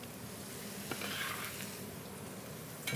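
Chopped onion sizzles steadily in a hot pan as the base for braised short ribs, a soft, even frying hiss with faint stirring scrapes, heard alone and fairly quiet.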